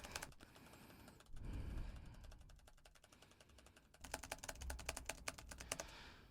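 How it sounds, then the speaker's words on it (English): Rapid typing on a computer keyboard, close and steady, recorded with a Sennheiser MKH416 or Shure SM7B microphone, with a brief lull before a faster, louder burst of keystrokes. "I will alternate the microphone as I type the keys again."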